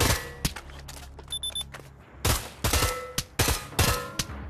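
Gunfire in the Pavlov VR kill house video game, with scattered sharp shots and short bursts hitting targets between quieter gaps, plus a brief electronic beeping tone early on.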